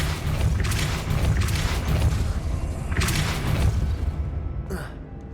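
Depulso spell impacts in Hogwarts Legacy come as a few loud booming thuds over a rumbling game soundscape, with a fainter sharp burst near the end as the noise thins out.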